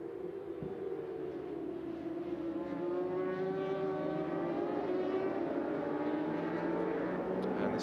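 Racing motorcycles on the green flag lap of a DSBK national championship race drone past in a continuous engine roar. Pitch shifts rise and fall as the bikes pass, heard from trackside at moderate distance.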